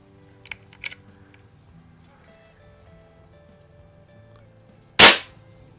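A Benjamin model 352 .22 caliber CO2 rifle from the mid-1950s fires a single loud, sharp shot near the end, following a quiet stretch with a couple of faint clicks.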